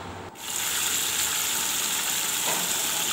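Fish sizzling in hot oil in a pan, a steady loud frying hiss that starts abruptly and carries on unbroken, close up, with no talking.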